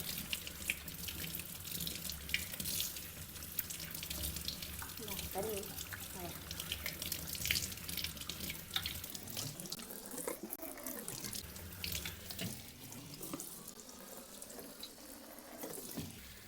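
Tap water runs steadily into a sink while cassava roots are washed by hand in a Malappuram home kitchen, with splashing and sloshing changes as the roots are handled; no talking.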